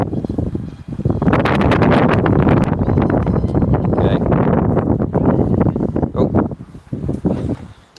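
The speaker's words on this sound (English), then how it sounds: "It's very windy out here." Strong wind buffets a microphone outdoors at a flying field, a loud, rough roar that swells and holds for several seconds before easing into gusty bursts.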